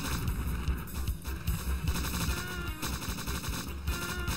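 Rapid, loud gunfire from the Strife first-person shooter game, sustained bursts of shots dense and continuous under a constant game background, with no voices.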